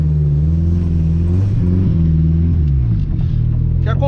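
A Fiat 147 Turbo engine drones steadily while driving, its low harmonic hum rising and falling through gear changes and revs, loud and close from inside the cabin, with a faint voice underneath.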